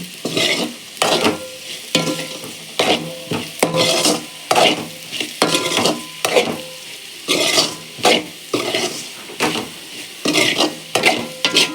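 Potatoes stir-fried with asafoetida sizzle in a pan while a spatula scrapes and tosses them in repeated rhythmic bursts, with metallic clatter between the strokes and short pauses in the sizzling.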